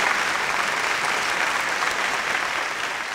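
Audience applause at a Kannada television quiz show's special episode, steady and loud throughout, a dense sustained clapping from a large crowd with no speech over it.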